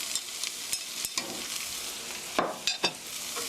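Scraping and tapping of a utensil against a pan in short irregular strokes, with faint sizzling underneath, as scrambled eggs are stirred in with onions after the heat is turned off.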